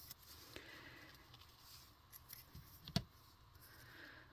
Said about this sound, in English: Just going to cut it at an angle a little bit here.